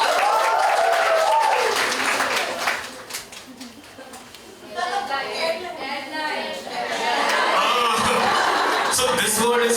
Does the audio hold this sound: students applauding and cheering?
yes